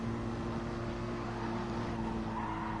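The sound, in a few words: Mercedes engines through Eau Rouge in racing video game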